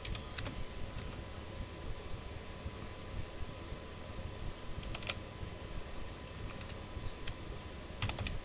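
A username and password are typed on a computer keyboard, quick irregular key clicks in small bursts with pauses, fairly quiet against a steady room hum.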